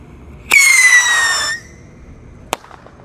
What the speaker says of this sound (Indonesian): yang kita nyalakan di sini ada roket Pyro roket tar guys. Sudah menyala, siap meluncur